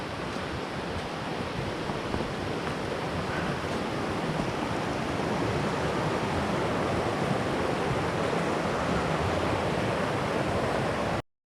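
A mountain river in the Smoky Mountains, crossed on a winter hike, rushes with a steady, loud, broadband roar that stays constant throughout, with no voices.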